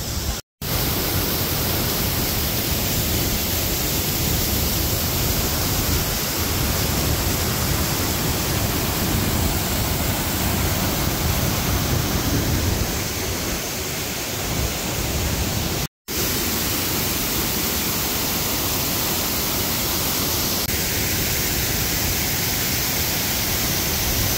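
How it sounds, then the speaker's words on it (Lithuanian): Steady, loud rush of falling water spraying close by, a continuous broadband hiss filling the whole clip with two brief dropouts. "Va čia tai kriokliukas. Labai purškia vanduo."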